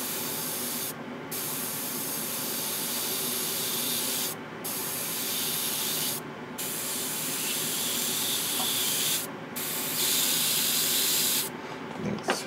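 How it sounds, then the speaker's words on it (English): A Gaahleri GHAD-39 Advance airbrush sprays onto a board in several long continuous hissing bursts separated by brief pauses, close and steady, with no talking. "I'm going to spray on this board to see how the coverage is."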